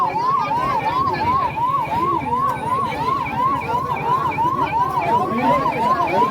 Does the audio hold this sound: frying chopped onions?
no